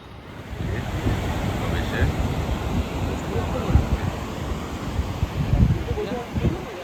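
Sea waves surge and wash steadily on the beach at Puri, mixed with gusty wind buffeting the microphone, a constant roar throughout with no one speaking.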